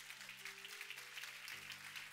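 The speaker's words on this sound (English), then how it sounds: "Can we give Jesus a big hand clap for that one?" A church congregation at a Good Friday service gives a short burst of hand clapping, a steady patter of claps over sustained organ or keyboard notes.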